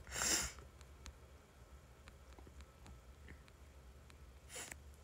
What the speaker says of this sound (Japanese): あらくしゃみで鼻水が。